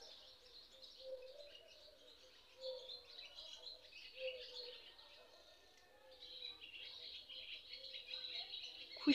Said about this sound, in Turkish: Kuşlarımız da sağ olsunlar. Sürekli konserlerini veriyorlar. Cıvıl cıvıl.